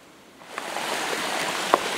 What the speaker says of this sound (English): Stepped off trail to come and view this beautiful stream.